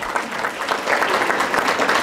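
Sustained audience applause for council, board and advisory members at a public event, a steady dense wash of many hands clapping without a break.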